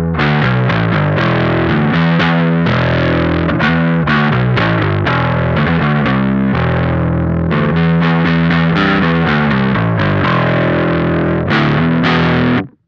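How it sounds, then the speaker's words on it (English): Electric guitar played through the fuzz section of a Lichtlaerm Audio Altar pedal with gain at half, loud saturated chords and riffs ringing continuously for about twelve seconds before stopping abruptly. "Let's go ahead and kick on the Alter, the fuzz section."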